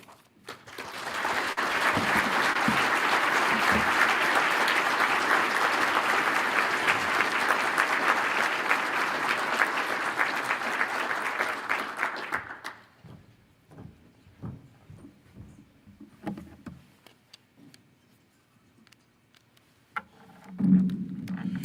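A crowd at Midland's State of the City 2025 event claps warmly for the mayor and city team. The applause is steady for about twelve seconds, then fades into a quiet hall with scattered small noises.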